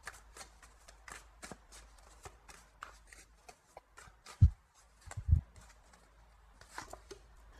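Tarot cards being shuffled for another draw, a quick run of crisp riffling flicks and soft slaps close by, with a couple of duller thumps as the deck is handled.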